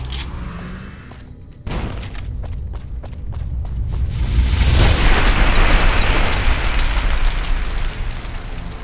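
A grenade goes off in the Fallout video game: a sharp burst followed by a loud, rumbling blast that swells and lingers for several seconds, heard alone without talk.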